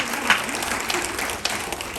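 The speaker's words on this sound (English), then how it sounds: "Let's give ourselves a round of applause." A short burst of clapping from a crowd at a school board meeting, fairly loud and continuous, with a hint of voices mixed in.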